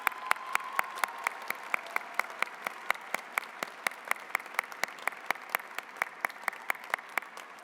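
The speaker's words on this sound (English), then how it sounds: "Let's give them a round of applause." Applause from a graduation ceremony audience as magna cum laude graduates stand: evenly spaced, crisp claps in a steady rhythm of roughly three per second for several seconds, at moderate distance, with no talking.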